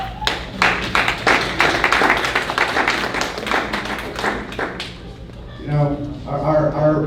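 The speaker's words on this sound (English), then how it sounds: "and I just want to thank you, Dorothy, so I give an applause for her." Audience applause at a community gathering honoring elders, brisk dense clapping for about five seconds that fades as a voice begins talking near the end.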